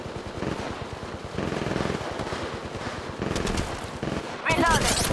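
Rapid automatic gunfire from Apex Legends Mobile during a ranked match, loud and sustained in dense bursts, with a sharper burst near the end and a voice speaking over the shooting.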